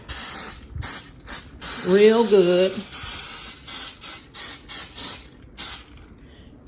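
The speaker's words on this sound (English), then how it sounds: "I'm going to spray this" Cooking spray hisses in short bursts across a tray being prepped so fruit leather won't stick, close and loud, with a person talking briefly between sprays.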